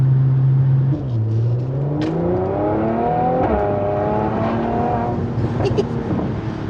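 A Mercedes-AMG C43 Cabriolet accelerates hard, its engine note climbing and dropping through several quick gear changes, heard from inside the car with people talking over it.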